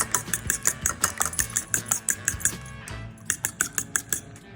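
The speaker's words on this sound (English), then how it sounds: "1 egg, scramble it" A fork rapidly whisks a single egg in a bowl, giving a quick, regular series of sharp clinks close up, with a short pause before the beating resumes.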